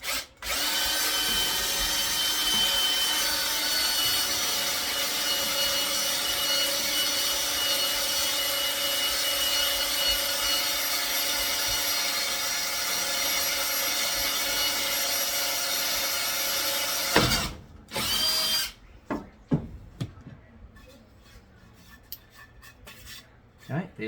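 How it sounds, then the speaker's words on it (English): Power drill boring a hole through timber, one loud continuous high whine lasting most of the run, then cutting off abruptly, followed by a few short bursts and clicks. "drill at the ready, hole marked in the timber, and we will start drilling"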